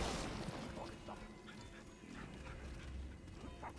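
A dog companion in the video game Remnant 2 gives faint whimpers and yips, low in level under a rumbling game background.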